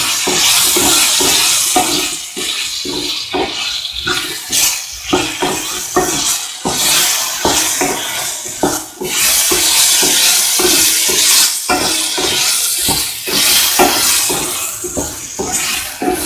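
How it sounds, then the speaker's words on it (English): A spoon scrapes and stirs a dry mix of fennel powder, turmeric and salt in a pan for a lemon potato rice dish. The strokes are steady, close and loud, with no voices. "Mix the fennel powder and the turmeric powder and the salt."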